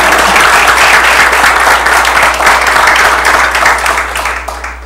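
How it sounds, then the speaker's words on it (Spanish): Audience applause at a technical lecture on gas chemistry in Peru, honoring the engineer speaker: dense, steady clapping from a room full of people, loud and sustained throughout, tapering slightly at the end. "les pido un aplauso para el ingeniero"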